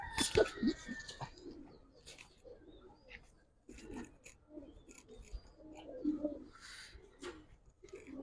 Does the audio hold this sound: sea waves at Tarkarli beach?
no